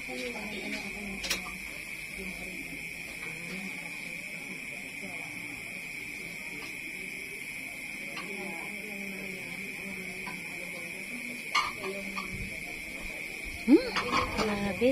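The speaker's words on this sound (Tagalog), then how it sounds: "Ang huni ng kuliglig sa gabing madilim." A steady, shrill cricket trill drones without pause throughout a dark night, with faint scattered noises and distant voices in the background.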